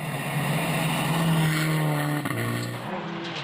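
A rally car screams flat out along a gravel stage in the Wairarapa, New Zealand, its engine holding a high steady note close by, then dropping pitch sharply as it lifts and shifts near the end.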